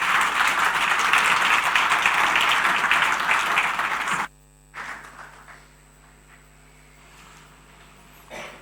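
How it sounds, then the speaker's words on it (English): Dense audience applause follows a keynote at a banking conference and runs strong for about four seconds, then cuts off abruptly. After it, only a faint electronic hum and a few quiet clicks remain. "Another round of applause, please."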